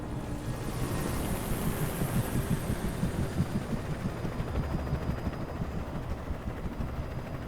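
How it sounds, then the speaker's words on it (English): Helicopter in the video game Alan Wake: a steady rotor throb and low hum, continuous and fairly loud for the whole stretch, with no speech over it. "Don't worry about the helicopter."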